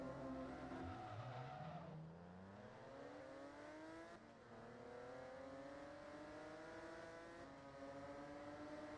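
A race car engine in Forza Motorsport 2 revs up through gears with rising whine and shifts, accompanied by tire squeal, steady and loud with no talk.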